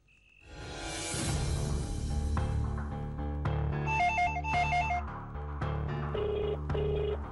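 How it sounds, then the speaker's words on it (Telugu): A telephone rings with a repeating electronic ringtone melody, loud and steady over a low droning background. "ఫోన్ ఎవరో చూడు"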